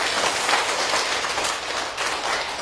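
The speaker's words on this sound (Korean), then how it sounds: "우리 박수 한번 쳐보죠." A lecture audience claps together during a humanities talk in Korea, a dense, steady wash of many hands that runs loud and unbroken for several seconds with no voices on top.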